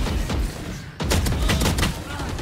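Gunfire in the video game Valorant, rapid rattling bursts of shots that swell louder after a brief lull, close and dense, with players talking over it.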